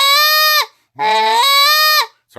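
A goose call blown as a moan produces two drawn-out, nasal honking tones, the second breaking over sharply as the reed flips pitch, loud and close with a short pause between.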